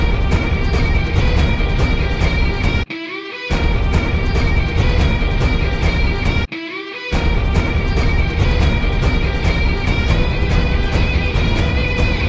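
Dense, loud orchestral action music, driving and continuous, with two brief abrupt cuts to near silence.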